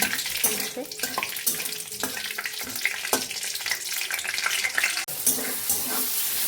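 Dried red chillies fry in oil for olive chutney, making a dense, continuous hissing sizzle close by, with scattered small pops and scraping throughout.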